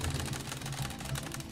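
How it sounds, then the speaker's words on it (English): Rapid mouse clicking during a Roblox Gym League workout session, a fast, steady stream of close clicks running continuously under a busy, dense game soundtrack. "I'm clicking as fast as I can."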